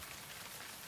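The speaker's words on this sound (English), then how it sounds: "the rain outside" Steady rain falls outside, a soft, even hiss of drops on surfaces with no other sounds, quiet and continuous.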